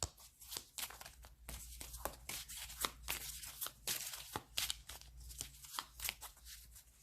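Playing cards being shuffled and cut by hand, a quick run of crisp riffling and slapping clicks that carries on steadily through the whole stretch, close and fairly soft, with no talking.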